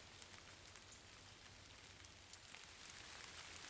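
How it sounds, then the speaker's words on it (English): Soft, steady patter of rain falling on a campsite, faint and continuous with scattered drops tapping nearby surfaces, slightly heavier toward the end. "So the rain's starting to come on harder now."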